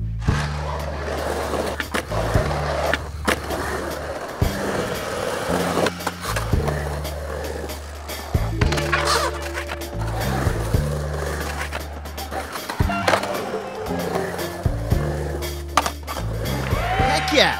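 Tech Deck fingerboard wheels rolling and grinding on a small transition ramp, a steady close rumble broken by sharp clacks and scrapes as the board lands and grinds, continuous across the run with no talking.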